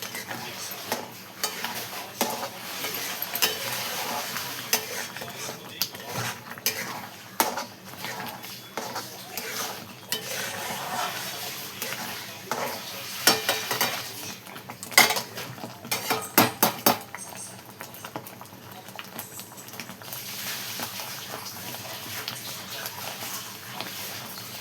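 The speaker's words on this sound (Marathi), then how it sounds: "बघा किती छान आपलं बेसन शिजत आहे बघा." Besan (gram flour) cooks in a pan while a metal spoon stirs and scrapes against it in irregular clinks and knocks, close and fairly quiet, over a soft background hiss.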